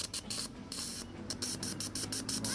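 A hose sprays bursts of water onto a troubled petrol car fuel injector, giving a loud, close, broadband hiss in rapid on-off pulses over a low engine hum.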